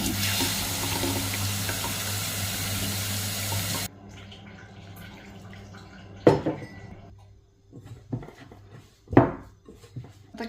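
A kitchen tap runs a steady, loud stream of cold tap water for pizza dough for about four seconds, then shuts off, followed by a few sharp clinks of dishes and utensils in a quiet room.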